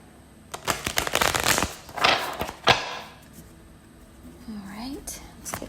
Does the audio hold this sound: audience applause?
no